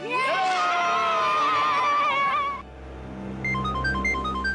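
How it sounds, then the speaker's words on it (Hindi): A mobile phone ringtone plays a repeating two-note electronic pattern, an incoming call for a CID officer, rising after loud, busy crowd noise of shouting and cheering children cuts off, with a low hum beneath. "अरे वो सीआईडी वालों का फोन आ रहा है।"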